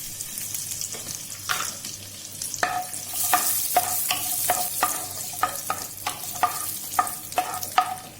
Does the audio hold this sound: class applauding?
no